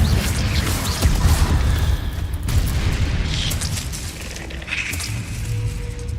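A Confringo fire spell blasts in Hogwarts Legacy, giving a dense, continuous rumble of booming explosions and crackling debris that swells and fades over several seconds.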